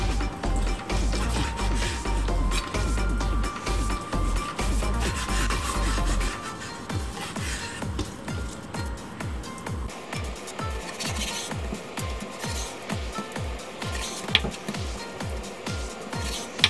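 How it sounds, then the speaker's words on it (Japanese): A knife slicing raw chicken skin into bite-size pieces, with a steady run of close, regular chopping cuts against a board. The cuts turn crisp and rhythmic in the second half, after a louder stretch of rubbing at the start. "一口大のサイズに切っていきます"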